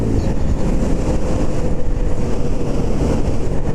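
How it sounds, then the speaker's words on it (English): Strong wind buffets the microphone while riding a motorbike on a country road, a loud continuous low roar filling the whole moment with no speech. "That wind's just a little strong."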